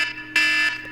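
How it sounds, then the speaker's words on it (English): Short buzzing alarm sound effect, a harsh electronic tone that sounds in two bursts, loud and close with no talk over it. "it's the I'm wrong alarm"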